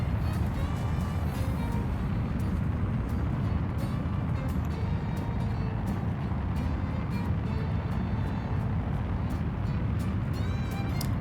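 In the game Star Citizen, a spaceship's VTOL thrusters roar on approach to a spaceport, a dense and continuous engine rumble with a constant hiss that holds steady throughout.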